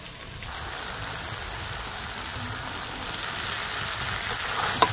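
Chicken fried rice sizzling in a hot pan as cooked rice is added, giving a steady dense hiss that builds slightly, ending in a small clack of the utensil.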